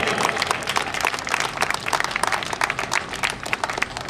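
A crowd at a Hindi-speaking gathering claps to welcome a speaker to the stage: dense, steady applause fills the whole stretch, with many hands clapping at once and no pause.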